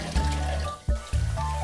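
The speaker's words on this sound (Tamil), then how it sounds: "அந்த புதினாவை நல்லா நம்ம க்ளீன் பண்ணி தண்ணியில் ஒரு ரெண்டு வாட்டி அலசிட்டு" Water splashes and trickles as fresh mint leaves are rinsed, with short bursts of sloshing broken by a brief pause, close and fairly quiet.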